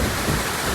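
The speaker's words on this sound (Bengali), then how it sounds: "দেখেন এখন বৃষ্টি, প্রচুর বৃষ্টি" Heavy rain in Mirpur, Dhaka, a brief burst of dense, loud, even roaring downpour with no voices.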